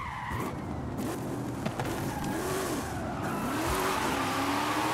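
A luxury SUV corners hard on a dirt surface, its engine droning steadily with rising and falling revs and scrabbling tire noise over loose ground, continuous and fairly close, with no talking.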